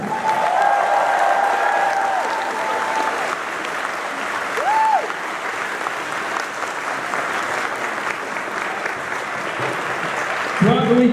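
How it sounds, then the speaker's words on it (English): An anime convention audience at a closing ceremony gives a loud, sustained round of applause with crowd noise and a few whistles, rising again briefly near the end. "let's have a huge round of applause for everybody who's been cosplaying with this weekend"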